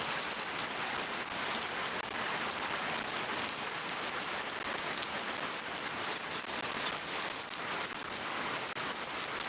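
Heavy rain falls in Shariatpur, Bangladesh, a constant close hiss of downpour on surfaces with no breaks and no voices.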